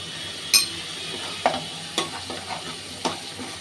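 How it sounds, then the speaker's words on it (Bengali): Mustard paste going into a hot pan for a fish dish, giving a sizzle broken by a handful of sharp utensil clicks and scrapes against the pan, close up and with no talking. "এখন এখানে আছে 1 টেবিল চামচ সরিষা বাটা, এটা আমি এখানে দিয়ে দিচ্ছি।"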